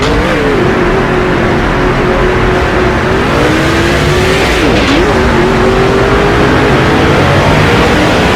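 NASCAR race cars roaring around the track in NASCAR 07, a loud close engine drone with pitch dips and rises as the car lifts and reaccelerates, plus faint tire noise.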